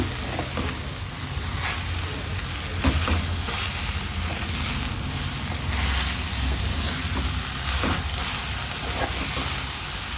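Green beans and masala being stirred in a frying pan for beans palya, a steady sizzle and hiss with occasional scrapes and knocks of the spoon against the pan, close and continuous without speech.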